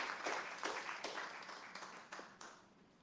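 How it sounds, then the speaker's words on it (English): A small audience at a neighborhood town hall meeting gives a light round of applause, scattered clapping that fades gradually with a few sharper individual claps toward the end. "give a round of applause"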